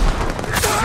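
Gunfire in the video game Ghost of Tsushima, a few sharp cracks and booms in quick succession over a noisy battle background, with someone talking over it.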